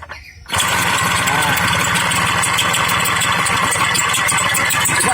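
A village motorcycle used for hauling palm oil fruit, restarted in a mechanic's workshop, idling with a steady, close, continuous chugging after a brief quiet start, while someone talks over it.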